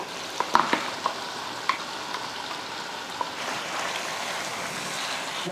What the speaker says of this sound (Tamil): பேஸ்ட் போட்டதுக்கப்புறமா நல்லா கிளறி விட்டு ஒரு அஞ்சு நிமிஷத்துக்கிட்ட நல்லா வதக்கி விட்டுக்கலாம்